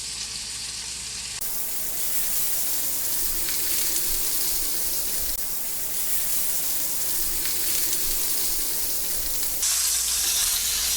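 Pork chops fry in oil in a pan, giving off a loud, continuous close-up sizzle that crackles and hisses without a break.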